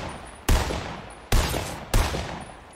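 Three sharp gunshots from a scoped rifle in a shooter video game, evenly spaced at close range, each snapping loud and trailing into a short echo over steady ambient game noise.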